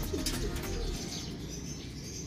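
Racing pigeons coo softly and steadily in a loft, low murmuring calls with a brief brighter chirp near the start, set against a constant background hum.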